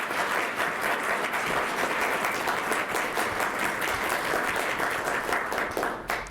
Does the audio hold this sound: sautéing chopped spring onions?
no